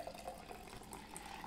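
Coffee pours into a cup already holding sugar-free caramel butterscotch syrup for a homemade pumpkin spice latte, giving a steady close-up liquid trickle and splash that runs without a break and with no voices.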